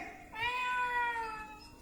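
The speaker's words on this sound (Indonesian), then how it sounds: "Kucing!" A cat gives one drawn-out, wavering meow, fairly faint, over a quiet background with no talk during it, on a stage monologue performance.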